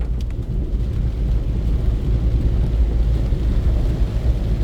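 Heavy monsoon rain pours down near a bridge in Dhangar, Fatehabad, a loud, continuous downpour with a deep low rumble and wind noise that holds steady throughout, with no talk.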